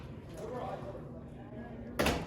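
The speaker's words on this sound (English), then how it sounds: "I'm just gonna get the door, ladies." A classroom door is opened, giving a brief, sharp clack near the end against a low murmur of room noise.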